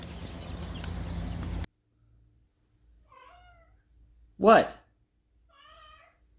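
A cat gives a few soft, high meows at close range in a quiet early-morning setting, spaced between a man's brief speech and a short loud exclamation.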